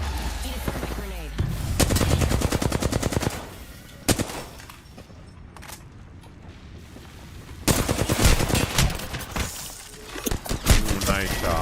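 Gunfire in the Apex Legends video game: rapid automatic bursts and single sharp shots in several loud clusters separated by quieter gaps, close and punchy, with a voice briefly heard.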